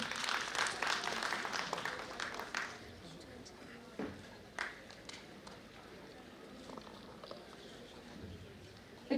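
A conference audience applauds a doctor being welcomed on stage, the clapping strongest at the start and fading to scattered claps, with some talk underneath.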